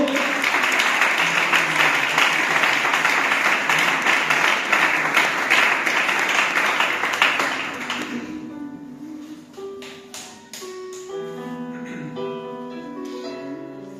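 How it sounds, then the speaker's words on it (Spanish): A church congregation applauds loudly and steadily for about eight seconds, then the clapping fades out as sustained keyboard or organ chords take over. "Dásele ese aplauso para el Señor,"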